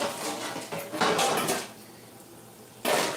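Dishes and pots clatter and clank in bursts as someone rummages through packed-up kitchenware for a container for tacos, with a quiet lull before a final loud clatter.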